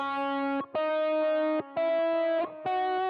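Villain 1 theme from the Sonic Unleashed video game soundtrack: a buzzy, distorted synth-like melody in four sustained held tones separated by brief gaps, loud and steady, with no voices.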